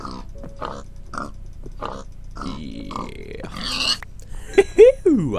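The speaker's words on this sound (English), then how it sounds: "killing them pigs" Minecraft pigs grunting and oinking in short bursts during a game, mixed with a player's talk and a few louder squeals near the end.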